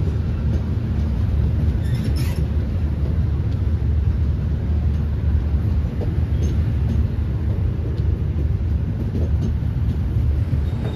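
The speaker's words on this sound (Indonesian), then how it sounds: "Rangkaian kereta api Batavia baru tiba di jalur 4." A Batavia economy passenger train rolls into a station along track 4, giving a loud, steady low rumble with faint rail squeals that holds evenly throughout.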